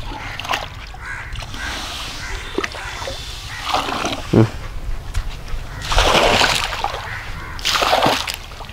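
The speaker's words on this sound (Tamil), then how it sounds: "ஸோ கொஞ்சம் தண்ணி மூண்டுங்க, ஆசிட் அதில் ஊற்றிடலாம்." Water and acid poured into a spirulina cultivation tank splash and slosh in broadband bursts, with two heavier pours toward the end, under faint voices.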